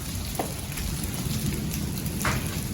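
Dry hail patters steadily outdoors, a dense, even hiss with a few sharper impacts standing out, and no voices.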